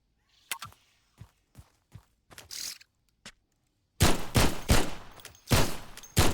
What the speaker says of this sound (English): This egg is pretty durable, by the way, taking 2 bullets.